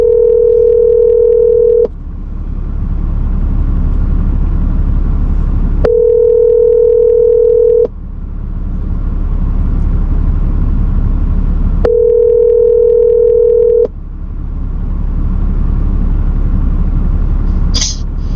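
A telephone rings out while a call to a customer of an auto repair shop in Gatlinburg connects. Loud ringback tones come in three long, evenly spaced bursts with steady low hum between them and a tiny click near the end.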